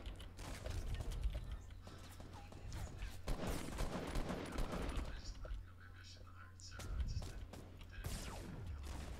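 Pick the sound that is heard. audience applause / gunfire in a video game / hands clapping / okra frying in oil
gunfire in a video game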